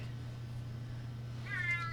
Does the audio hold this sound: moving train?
no